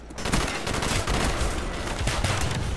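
Rapid gunfire from the video game Black Ops 1 crackles in dense, continuous bursts, loud and busy throughout with no pauses.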